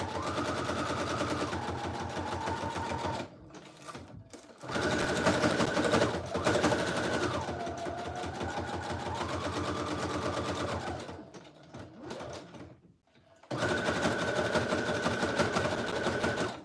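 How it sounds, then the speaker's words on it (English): A sewing machine stitches through a Tim Holtz-inspired junk journal in loud, steady runs, broken by short pauses between bursts of stitching. "Let me sew this real quick"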